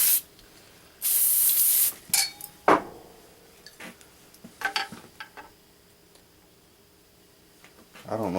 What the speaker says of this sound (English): Use some WD-40 here.